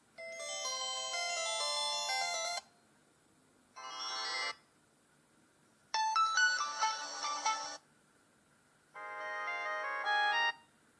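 Melodic ringtone from a PW305 MI-W2 smartwatch at lowered volume, playing in four separate bursts with short silent gaps between them, fairly soft and close.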